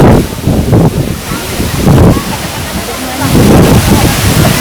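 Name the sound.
water at Curug Bidadari waterfall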